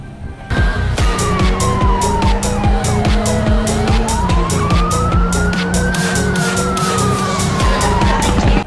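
A toy police car siren wails loudly and steadily up close, its rising and falling tone sweeping continuously over a buzzing, rapidly pulsing electronic drone.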